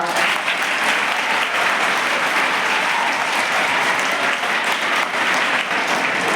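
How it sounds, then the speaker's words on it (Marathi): Audience applause for Pande madam at a school function with dances and speeches, a dense, steady wash of many hands clapping at close range, unbroken and even for the whole stretch. "पांडे मॅडमसाठी टाळ्या वाजवा"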